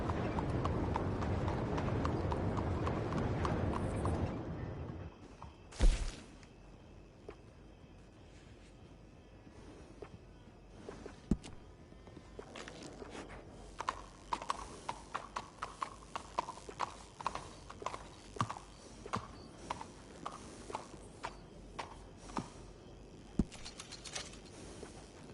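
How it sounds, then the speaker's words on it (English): Horse hooves clip-clopping in Red Dead Redemption 2, a steady string of light hoof knocks at walking pace after a short burst of louder noise at the start, with faint mechanical background. "Hey, good-looking horse there."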